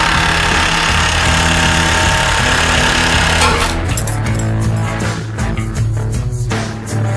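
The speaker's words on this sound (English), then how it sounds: "If using an impact driver, insert the square drive into the end of the feed screw." Impact driver spinning the feed screw of a RIDGID 238-P powered soil pipe cutter as it cuts through pipe; a continuous loud, rattling mechanical drone with shifting hammering texture throughout, no talk.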